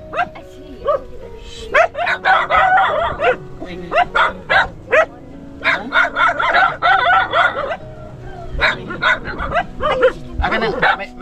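Dogs bark in short repeated bursts at a rural home in Samar in the Philippines, mixed in with people talking close by.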